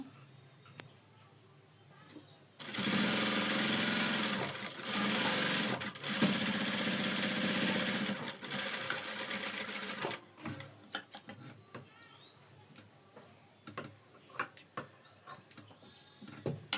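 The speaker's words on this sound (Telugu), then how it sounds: "సరిపోయింది పైన కుట్టేసేద్దాం" A sewing machine stitches a blouse in bursts of rapid mechanical whirring, close and steady for several seconds at a time with short pauses, then gives way to quieter handling clicks and rustles.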